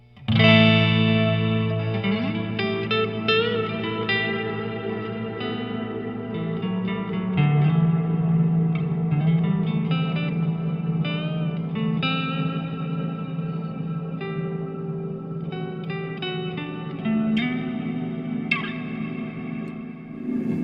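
A guitar run through a Walrus Audio Slo reverb pedal with sustain engaged rings out in long, spacey washes, held chords swelling under bright picked notes in a continuous shimmering layer.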